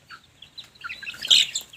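Young chicks hatched from an incubator chirp and squabble in a backyard, giving short, quiet peeps with a brief sharper burst near the end.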